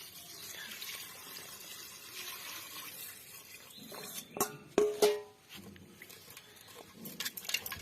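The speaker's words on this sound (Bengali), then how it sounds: "তো এবার এটা আমরা প্রেসার কুকারে দেব। জল এর সাথে অ্যাড করে দিচ্ছি।" Water poured from a vessel into mutton pieces inside a pressure cooker for a Bengali-style mutton curry, a steady splashing trickle with a few louder gushes near the middle.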